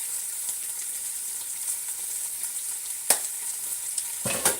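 Carrots, chayote and spring onion stir-fry in a hot pan with a continuous close hiss and sizzle, broken by two sharp utensil clanks near the end.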